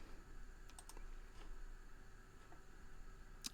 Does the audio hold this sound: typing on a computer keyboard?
yes